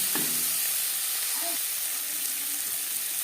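Sliced tomato hits frying onions in a pan, and a loud, constant hiss of sizzling fills the whole clip close up, with a few faint background tones.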